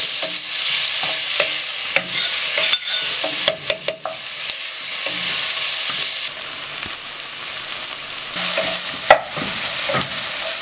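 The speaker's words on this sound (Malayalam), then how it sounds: "കുറച്ച് ഇഞ്ചിയും കുറച്ച് വെളുത്തുള്ളിയും കൂടി ഒന്ന് ചതച്ചെടുത്തതാണ്, അത് ഊറ്റി വെച്ചിട്ടുണ്ട്. ഇതൊന്ന് മിക്സ് ചെയ്തെടുക്കണം." Crushed ginger and garlic stirred in a sizzling frying pan, a constant hiss of frying broken by scraping and clacking strokes of the spoon against the pan, close and loud with no talking.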